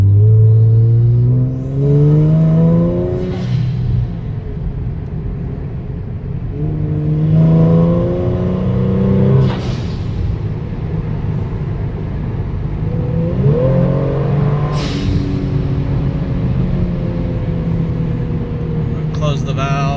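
A Kia Stinger fitted with GFB Mach2 and Deceptor Pro 2 blow-off valves revs high up close, and the throttle is then lifted. Each of about four loud engine climbs ends in a sharp whooshing vent before the car settles back.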